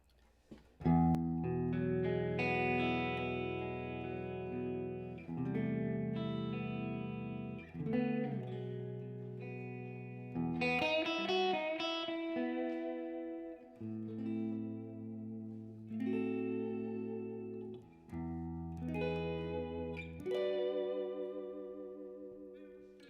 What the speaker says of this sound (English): I'm just going to play it for you and hopefully let the sound of the guitar